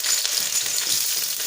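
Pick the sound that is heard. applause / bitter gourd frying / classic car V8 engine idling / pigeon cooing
bitter gourd frying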